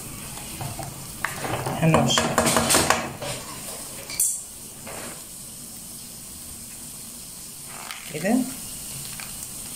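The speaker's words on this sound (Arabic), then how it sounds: "بصلايه كبيره حطها في زيت تتشوح، وهحط اللحمة عشان اشوح لحمة الكريب" Onion and meat sautéing in oil for a crepe filling, sizzling with bursts of stirring and scraping in the pan and a couple of clanks, while someone speaks briefly.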